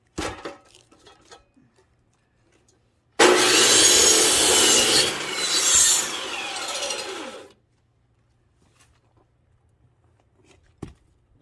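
Firewood logs for a fireplace are cut in one loud, continuous rasping saw burst lasting about four seconds, preceded and followed by quiet scattered knocks and handling noises.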